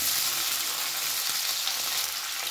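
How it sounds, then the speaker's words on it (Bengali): Onion and capsicum fry in a pan for chilli paneer, a bright constant sizzle that stays close and even while the pieces are stirred, with no voices. "এবার দিয়ে দিলাম ডুবো করে রাখা পেঁয়াজ। এটা দিয়েও ভালো করে একটু নাড়াচাড়া করে নেব।"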